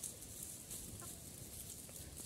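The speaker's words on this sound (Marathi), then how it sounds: "बघा हे अतिशय सुंदर अशा कोंबड्या आहेत." Farm chickens cluck softly in the distance against a steady hissing outdoor background, with a few faint scattered calls.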